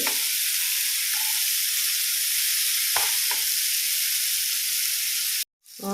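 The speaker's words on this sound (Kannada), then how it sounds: "ಇಲ್ಲಿ ಲೋ ಫ್ಲೇಮಲ್ಲಿಟ್ಟು ಎಲ್ಲ ಕಡೆ ತಿರುಗಿಸಿ ಇದನ್ನು ಫ್ರೈ ಮಾಡಬೇಕು" Sardines fry in oil in a pan on a low flame, giving a loud, continuous close hiss and sizzle with a couple of brief utensil knocks before it cuts off abruptly near the end.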